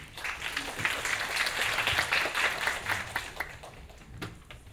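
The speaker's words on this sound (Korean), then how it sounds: "큰 박수로 맞아주시기 바랍니다." Developer forum audience claps to welcome a university professor lecturing on light field and hologram 3D displays; a modest, fairly quiet patter of hands that swells then thins out toward the end.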